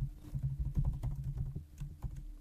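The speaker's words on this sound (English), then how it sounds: "So now you're going to type in home assistant" Rapid, close clicking of keys on a computer keyboard runs in an uneven patter throughout, with no voices.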